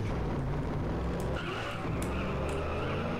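Car in the game MTA DayZ drives hard with a steady engine roar, then its tires skid and squeal briefly midway, with a few sharp bursts over the motor.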